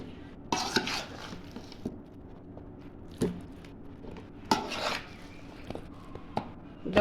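Homemade ginger-garlic mango pickle being spooned into a container, with sharp scraping clinks of utensil against the box and scattered softer knocks in an irregular rhythm, close and fairly quiet.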